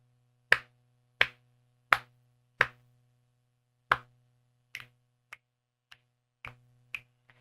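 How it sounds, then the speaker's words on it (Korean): Sharp single hand claps into a microphone, about ten evenly spaced dry cracks over several seconds, the later ones softer, with a low steady hum beneath. "여기서 다시 박수 한번 쳐 볼게요"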